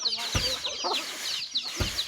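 Chickens at a rural campsite cluck and chatter softly while waiting to be fed, a few short calls close by over a low outdoor background.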